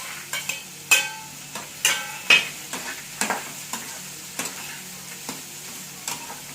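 Chillies fry in hot oil in a pan for tomato chutney, a soft continuous sizzle broken by repeated scraping stirs of a spoon against the pan, about a dozen strokes in an irregular rhythm.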